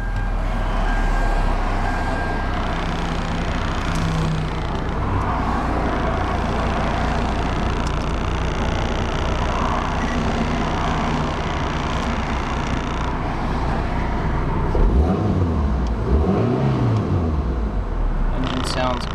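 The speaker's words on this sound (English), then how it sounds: "Engine sounds good." A 2000 Mitsubishi Eclipse RS engine idles steadily up close, a continuous low rumble filling the clip with a brief louder rev near the end.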